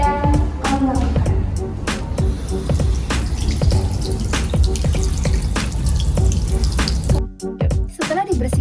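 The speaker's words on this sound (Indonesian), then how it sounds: "bilas dulu dengan air mengalir selama 3-5 menit" Tap water runs steadily into a sink to rinse a fresh burn wound, a loud, close, continuous splashing with dripping and small knocks near the end.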